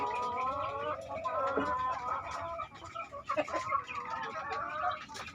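Several chickens cluck and chatter steadily nearby, overlapping calls with occasional sharper squawks, continuing throughout.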